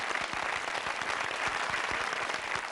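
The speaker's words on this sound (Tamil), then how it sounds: "ரெண்டு பக்கமும் ஒரு பெரிய கைத்தட்டல்கள் வந்திருக்கு" Studio audience of fishermen applauds from both sides of the hall during a televised discussion show, a continuous wash of many clapping hands, even and fairly distant, running under a few seconds without talk.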